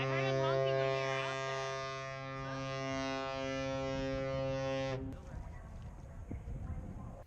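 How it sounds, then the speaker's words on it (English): A boat horn in a harbor blasts one long, steady, loud tonal honk lasting about five seconds, then cuts off, leaving choppy background noise. "Why do they keep honking?"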